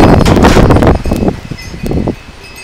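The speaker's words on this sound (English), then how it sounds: "this wind has been blowing like this all day long" Strong outdoor wind gusts buffet nearby, loud and rushing at first and then easing into quieter, intermittent bursts.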